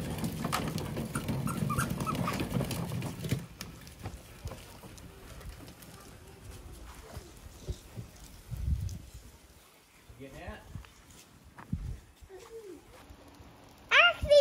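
Dogs at a rural animal sanctuary scuffle and whimper near a boat and water, with soft whines and shuffling mixed with people talking, a rumbling stretch early on and a sharp sound at the very end.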